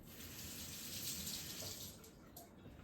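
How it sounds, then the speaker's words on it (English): Tap water runs steadily over a fine-grit sharpening stone, rinsing it after a blade is honed. The gush is continuous and close, with no break and no talk. "Let me rinse this off real quick."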